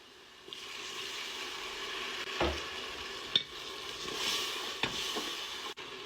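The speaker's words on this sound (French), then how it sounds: "je vais laisser mijoter à peine 2 minutes et je rajoute de l'eau" Fish couscous sauce with salt, pepper, paprika, hot chili and a little hot water simmering in a pot, a soft steady sizzle with faint bubbling and a few light stirring knocks.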